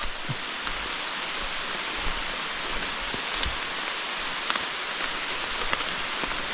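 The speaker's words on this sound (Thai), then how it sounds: "มื่อวานกับฝนตก มื่อนี้กับฝนตก" Steady rain falls with a constant hiss, occasional louder drops tapping nearby, with no voices.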